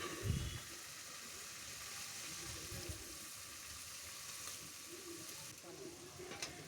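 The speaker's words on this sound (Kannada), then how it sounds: "ಒಂದು ಪಾತ್ರೆಯಲ್ಲಿ ಎಣ್ಣೆನ ಹಾಕ್ಕೊಂಡು ಅದಕ್ಕೆ ಕಟ್ ಮಾಡಿಟ್ಟಿರೋ ಈರುಳ್ಳಿನ ಹಾಕ್ಕೊಳ್ತಿದ್ದೀನಿ ನಾನು ಈರುಳ್ಳಿ ಚೆನ್ನಾಗಿ ಫ್ರೈ ಮಾಡ್ಕೊಳ್ಬೇಕು" Chopped onions sizzling in oil in a pot, a steady close hiss of frying with a few stirring knocks near the start.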